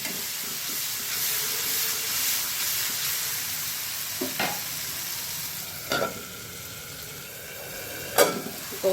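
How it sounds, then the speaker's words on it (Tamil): Tomato and egg masala for an Andhra-style egg thokku sizzling and frying in a pan, with a constant hiss and a few distinct scraping strokes of stirring, close and without talk. "இப்போ ஓப்பன் பண்ணி நம்ம வந்து கொஞ்சம் நல்லா அதை வந்து கிளறி விட்டுக்கலாம்"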